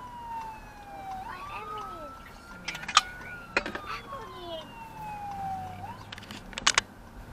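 An ambulance siren on a Florida road wails in a slow falling-and-rising tone at moderate distance, carried over steady traffic rumble with a few sharp clicks and knocks near the end.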